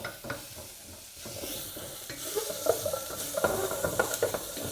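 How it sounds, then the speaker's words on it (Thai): Ingredients for Japanese curry stir-fried in a pot, with a steady sizzle and scraping stirring strokes that grow busier and louder toward the end, close and without talking. "ผัดให้หอมเลย"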